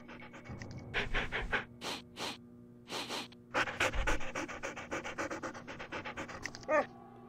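Dogs in the Nancy Drew: Ghost Dogs of Moon Lake game pant in quick, breathy bursts, close and clear, repeating in short rapid runs with brief gaps between.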